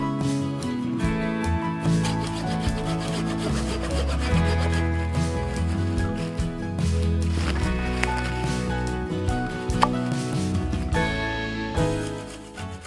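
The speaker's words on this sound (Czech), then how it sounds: "Tak a následuje nařezání spěr, na kterých bude držet deska stolu." A small hand saw cuts wooden struts for a folding shelter table outdoors, with steady close back-and-forth rasping strokes running continuously.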